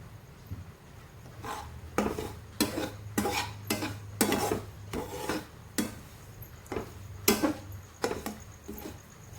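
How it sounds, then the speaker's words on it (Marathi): Semolina (rava) roasting in a pan over a low flame, a spoon scraping and rasping through the dry grains in steady repeated strokes, close and moderately loud with no talking. "इथे मंडळी मी भाजून घेत आहे रवा आपला"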